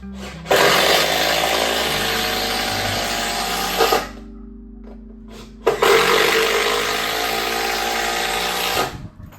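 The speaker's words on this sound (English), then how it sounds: "And then just running my screws in." Power tool driving screws into a wooden 2x6 workbench top, two long loud bursts of whirring with a short pause between them, close and with no talking.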